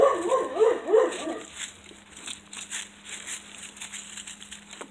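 Puppies yip and bark in a quick burst of several high, overlapping barks at the start, then only low rustling and faint background noise.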